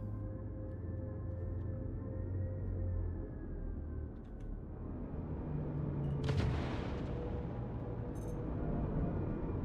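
Missiles fire in Star Citizen as a steady low ship hum gives way to a brief burst of launches, whooshing and crackling before settling back into a rumbling drone.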